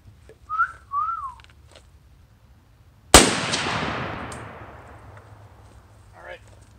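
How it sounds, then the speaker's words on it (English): A single sharp rifle shot outdoors while zeroing a Holosun red dot sight at about 25 yards, loud and close with a long rolling echo, preceded by two short whistles and faint movement. "we'll put a shot in here as well"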